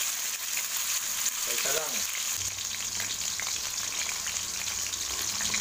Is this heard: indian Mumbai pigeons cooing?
no